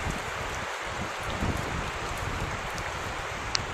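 Steady rain falls outdoors during a car wheel hub bearing replacement, a constant close hiss of drops with a faint sharp tap near the end and no talk.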